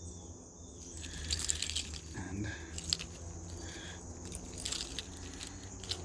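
Metal keys clink and jangle close up through much of the stretch, with a soft voice in the background.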